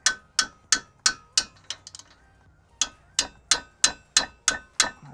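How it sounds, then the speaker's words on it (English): A mallet taps a car brake part into place during a big brake kit install on a Kia Forte, with sharp, evenly spaced knocks in two runs separated by a short pause, close and clear. "We just kind of give it a couple taps with the mallet."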